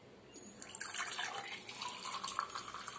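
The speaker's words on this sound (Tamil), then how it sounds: "ஒரு டம்ளர் வச்சிருக்கேன், அதுல வந்து ஊத்திக்கலாம்." Mint lemon juice poured into a tumbler makes a soft, continuous trickling splash for a few seconds, faint and close, with no talking over it.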